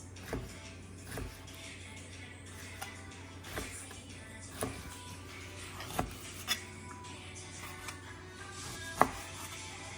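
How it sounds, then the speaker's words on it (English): A knife thinly slicing flank steak for a beef stir fry, regular soft chops landing on a cutting board roughly every second, close and fairly quiet over a low steady background hum. "all I'm going to do is slice it, and then I'm going to put it in a bowl to marinate"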